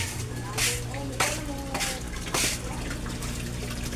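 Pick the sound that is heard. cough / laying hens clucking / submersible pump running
submersible pump running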